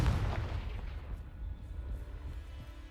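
A Confringo fire spell blasts in Hogwarts Legacy, a loud rumbling burst at the start that trails off into a low, sustained roar of game audio with no talking.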